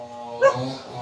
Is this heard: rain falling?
no